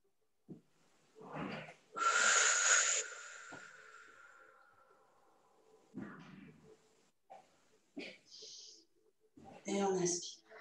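A slow, deep breath drawn in during a Pilates warm-up produces a soft, airy rush lasting about a second, with an instructor's voice speaking briefly before and after it.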